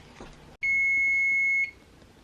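A kitchen timer on an oven sounds one sharp, loud, steady electronic beep lasting about a second, close by, after quiet kitchen background.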